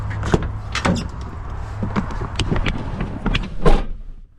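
Front door of a converted construction camper van opening, with several sharp clicks and clunks of the latch and handle close by, plus a louder thump near the end.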